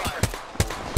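Sharp gunshots from a weapon in the video game Apex Legends: four separate cracks, irregularly spaced, loud and close over a low background hum.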